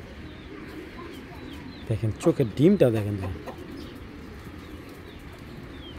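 A pigeon of an aggressive breed coos in a short run of rising, throaty calls near the middle, with faint flapping and someone talking over it.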